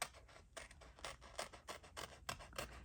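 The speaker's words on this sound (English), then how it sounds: "I gotta trim this." Small scissors snip and crunch through decorative washi tape laid on a paper planner page, a series of soft, close, quiet cuts.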